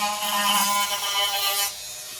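A small power sander smoothing a handmade holster for a Glock 19, a close, steady high whirring buzz that drops off toward the end.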